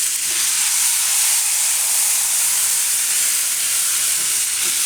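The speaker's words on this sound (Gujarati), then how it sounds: "આ રીતે મિક્સ કરીને એમાં છાશ નાખી દેવું।" Sour buttermilk poured into a hot spiced tempering over a low gas flame for a Kathiyawadi vaghareli rotlo, giving a loud, steady steamy hiss and sizzle that holds for the whole stretch with no talking.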